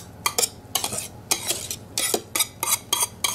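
A whisk scrapes and clacks against a dish while choux pastry dough is stirred and moved into it, a quick series of sharp metallic taps and scrapes, close and loud, with no talk.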